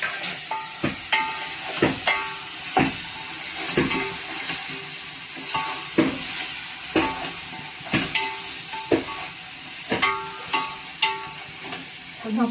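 Green chili, ginger and garlic paste sautés in a pan with a soft, steady sizzle, punctuated by regular clinks and scrapes of a spoon stirring against the metal every second or so.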